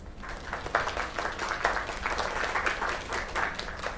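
Crowd applause in the video game Lake, after a singing performance at a small-town venue. Dense, continuous clapping from a modest audience rolls along at an even level with slight swells.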